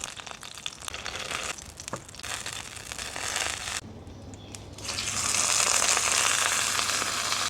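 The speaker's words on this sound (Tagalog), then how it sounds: "Iprito muna natin itong napakalaking talong." A very large eggplant fries in a pan of hot oil, giving a steady, crackling sizzle that briefly dips and then returns louder and denser. No voices are heard.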